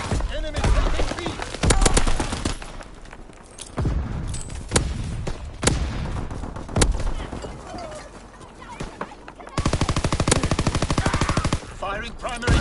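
A video game's primary gun fires in rapid automatic bursts, loud repeated bangs in short volleys with pauses between, under radio-style voice callouts.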